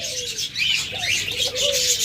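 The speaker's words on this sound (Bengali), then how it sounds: "সকল কালারের ঘুঘু পাখি রয়েছে" Caged ghughu doves coo in low, wavering calls up close, layered over a dense, loud chatter of small cage birds chirping continuously, with no voices.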